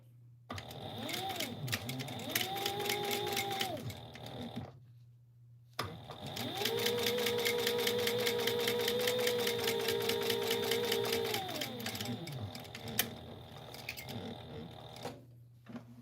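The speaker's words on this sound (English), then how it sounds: "And then we're gonna sew down this edge at 1/4 inch seam allowance." A sewing machine stitches a quarter-inch seam down a fabric edge in two bursts. The first is shorter, then a brief pause, then a longer steady run of rapid needle clatter with a whining motor that winds up and then slows.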